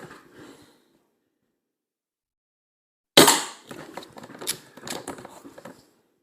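Shots from a Crosman 2240 .22 CO2 air pistol fitted with a GRAVmag, fired at a paper target: a sharp, loud crack after a silent pause, followed by several quieter clicks and rattles of handling.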